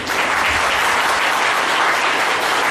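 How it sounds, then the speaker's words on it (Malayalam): A congregation at the Divyakarunya Convention in Mallappally applauds in thanks, with dense, sustained clapping from a large crowd that fills the room evenly from start to finish. "എന്നാ ഒന്ന് കൈയടിച്ച് കർത്താവിന് നന്ദി പറയാം"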